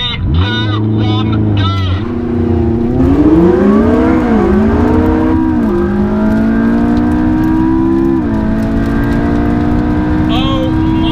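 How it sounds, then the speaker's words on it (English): A McLaren 675LT accelerates hard off a launch-control start, its engine rising in pitch through several gear changes as a loud, sustained roar, with a voice talking over it at times. "Let's play around with launch control."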